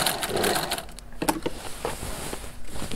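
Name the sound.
sewing machine, presser foot lifted to change direction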